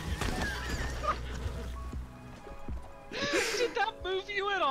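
A horse in a video game neighs and whinnies with hoofbeats, the calls rising over layered game music and effects, while a person talks over the action.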